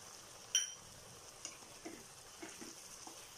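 A spoon scrapes and stirs soft potatoes with turmeric and dry spices in a pan, a sharp clink near the start followed by a few quiet, scattered scraping taps with no talking.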